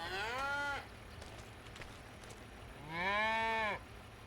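Two drawn-out cow moos in a video game cow barn, one at the start and another near the end, clear and fairly close with quiet ambience between.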